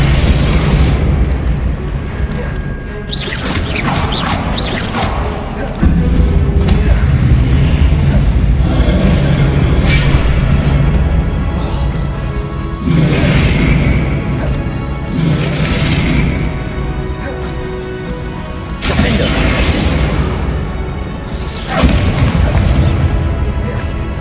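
Loud, repeated booming spell blasts of the Bombarda spell in Hogwarts Legacy, several heavy explosive bursts spaced over a dense, continuous game soundscape.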